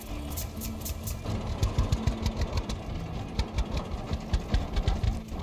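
A tractor engine in Farmer's Dynasty runs with a close, rapid mechanical chug and rattle. It steadies after about a second and keeps an even pulsing rhythm to the end.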